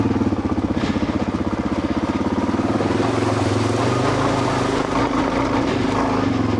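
An old Suzuki DR-Z400 dirt bike engine runs close and loud with a steady throbbing rumble, shifting pitch slightly partway through as the rider carries on.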